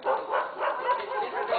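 A dog barks loudly and close in a rapid, continuous run of overlapping barks.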